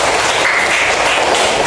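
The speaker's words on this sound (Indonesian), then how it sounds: "Boleh tepuk tangan." Children clapping their hands together in a classroom, a dense, loud, steady burst of applause filling the whole moment without pause.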